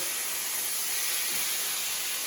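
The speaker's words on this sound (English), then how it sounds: "We're gonna get a nice sear on this." Beef tongue sears in a hot oiled pan, giving a continuous airy hiss at steady, moderate loudness with no talking over it.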